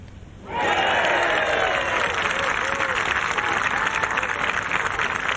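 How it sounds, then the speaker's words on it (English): A golf gallery at the Amundi Evian Championship bursts into loud cheering and sustained applause that starts abruptly and carries on strongly to the end. "Biggest cheer of the week."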